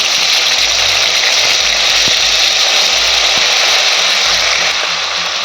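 Salted paneer fries lightly in hot oil in a pan, producing a loud, continuous sizzling hiss that holds steady throughout over a low background hum, with no talk.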